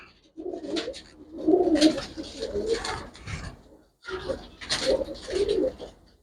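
Pigeons coo in several soft rounded bursts close by, each phrase rising and falling, with a short pause midway and no talk.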